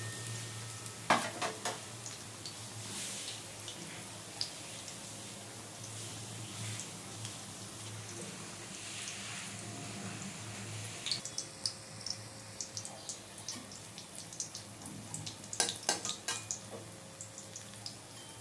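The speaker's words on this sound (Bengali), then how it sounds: "এটা একটু কমিয়ে কমিয়েই ভাজতে হবে, যেহেতু পটলটা তো সেদ্ধ হওয়ার ব্যাপার আছে" Pointed gourd (potol) fries in a pan over low heat, giving a soft, continuous sizzle with scattered clicks and scrapes of stirring, fairly quiet and without speech.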